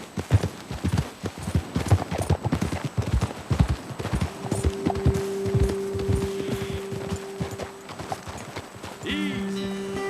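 Horses in Red Dead Redemption 2 clip-clop along, hooves pounding in a quick, loud gallop that slows to scattered steps, while a sustained tonal hum enters partway through.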